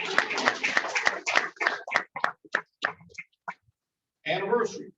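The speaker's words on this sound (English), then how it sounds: "So let's give him a round of applause." Applause from a Rotary Club meeting audience starts as dense clapping, thins to a few scattered claps and fades out, then a voice speaks near the end.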